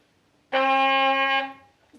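A single sustained brass note, a D, clear and bright, held for about a second before fading, played alone in a quiet room.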